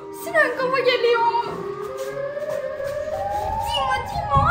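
A wailing Siren Head siren effect rises and falls in long sweeping tones while children talk over it.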